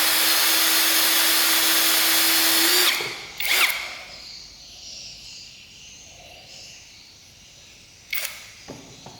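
An MLHY 10 mm cordless brushless hammer drill rated at 60 N·m whines loudly and close for about three seconds, then stops abruptly, leaving quiet room sound with a few brief clicks and knocks.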